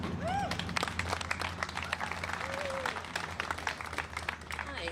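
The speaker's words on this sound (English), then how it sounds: "Let's give her a round of applause." Audience applause for a speaker at a science talk event, steady dense clapping from a crowd throughout, with a few brief voices and whoops rising over it.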